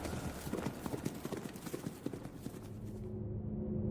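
Horse hooves beat out a steady clip-clop gallop with an occasional faint whinny, loud and close throughout, while a low hum rises near the end.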